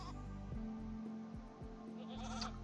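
A goat in the video game RimWorld lets out a loud, wavering bleat that rises and breaks into several pulses, heard alone over a low game background.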